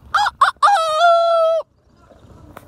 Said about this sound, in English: Three chickens. Four chickens.